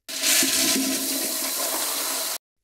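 An aircraft toilet flushes in one loud, steady whoosh of rushing water and suction that lasts about two seconds, then cuts off abruptly. No one speaks over it.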